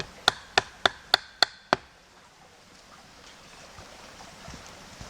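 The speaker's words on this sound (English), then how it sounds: "Shove it in the ground and pound it home." Six sharp strikes of a stake being pounded into the ground while pitching an emergency shelter, evenly spaced and close, then quiet outdoor ambience.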